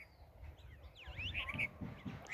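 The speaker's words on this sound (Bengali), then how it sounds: "পাখির কিচিরমিচির শব্দে" Village birds give a few faint, quick chirps and whistling calls over quiet background hum, with a couple of lower calls mixed in and no voices.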